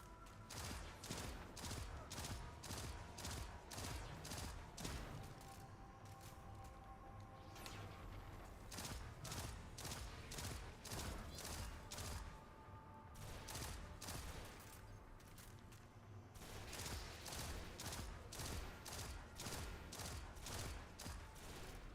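Rapid bursts of video game weapon fire during weapons testing, volleys of shots repeating in clusters with short lulls between them.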